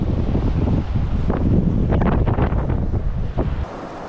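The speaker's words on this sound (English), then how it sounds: "Can't do anything with this wind blowing around." Strong wind buffets the microphone beside a Colorado mountain creek, a loud, continuous roaring rumble that eases slightly near the end, with no voices.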